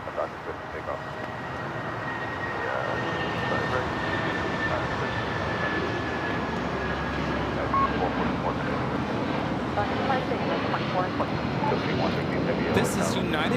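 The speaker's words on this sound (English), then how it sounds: "This is United Airlines 2444 taking off to Newark on the 757-200" A United Airlines Boeing 757-200 takes off from LAX, its engine roar swelling after a quieter start into a sustained broad rumble with a thin whine, some wind noise mixed in.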